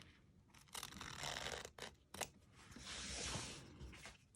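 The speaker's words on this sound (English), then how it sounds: "we want to cut as close to the zigzag as possible without clipping the zigzag stitches" Sewing scissors trim fabric close to zigzag stitching on a small quilted mug rug, giving a series of close, crisp snips and slides with brief pauses between cuts.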